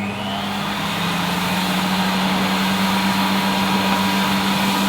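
A Hoover Compact Electronic cylinder vacuum cleaner runs on its low speed setting, giving a steady, close, continuous motor whine with a constant low hum and broad airy rush, unchanging throughout with no speech.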